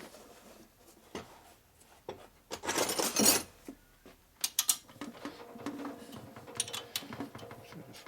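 A ratchet wrench works loose a stud on a 1947 Harley-Davidson EL knucklehead 74ci engine, giving bursts of close metallic clicking and ratcheting with clinks of tools between them, and no voices.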